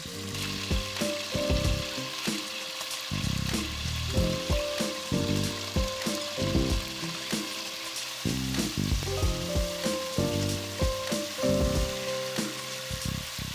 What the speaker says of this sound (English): Add the meat to the pan. Stir until all the sides gets brown.